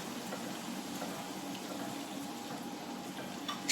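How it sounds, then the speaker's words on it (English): Pasta water pours steadily into a pan of prawn marinara, a continuous close splashing and trickling, with a brief clatter at the very end. "Okay, I'm going to add some pasta water."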